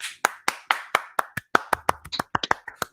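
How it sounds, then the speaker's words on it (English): Applause during a live stream: about sixteen crisp, close hand claps in an uneven, quickening rhythm, with no talking. "Let's give a round of applause for that"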